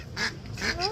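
A duck bought at a market shop gives a few short, nasal quacks or honks, close and fairly loud against a busy background.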